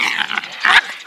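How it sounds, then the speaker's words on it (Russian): An angry dog growling up close in a home, a short loud snarling rumble lasting about a second, with no talk. "Злая собака."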